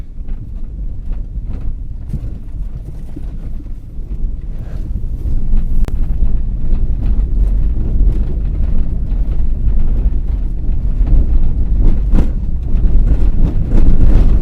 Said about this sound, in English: A lot more noise inside the cabin.